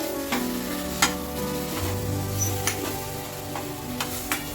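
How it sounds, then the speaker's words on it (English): Amla sautéing with crushed jaggery in a pan, a steady low sizzle broken by a few sharp spoon taps and scrapes against the metal, close and moderately loud with no talking. "start by sauteing amla in a pan"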